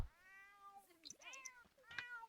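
A cat meows in The Sims 4 video game, a run of several drawn-out, rising and falling meows in close succession, clear and fairly quiet with no talking over them.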